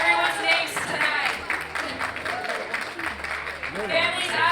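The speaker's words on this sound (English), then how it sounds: "Big round of applause for these girls." Crowd applause at a spoken word festival evening, moderate clapping spread across the room mixed with cheers and overlapping voices, fairly steady for several seconds.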